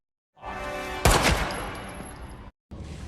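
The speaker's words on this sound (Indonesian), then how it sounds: "Mickey yang tidak setuju langsung menyuruh anak buah melepaskan tembakan dan mengenai sahabat Ray sehingga tewas." Gunfire in a crime film scene as a gang boss orders his men to shoot, heard as a loud sudden burst of shots that decays into a noisy rumble, then a brief cut to silence before the sound resumes.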